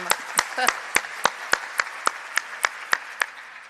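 Audience applause for the University of Minnesota Provost at an age-friendly university event, heard as a steady, evenly spaced run of about a dozen crisp claps in a regular beat, fairly quiet.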